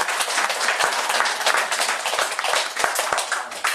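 A small church audience applauds with dense, continuous clapping from many hands, close and lively, with no speech over it.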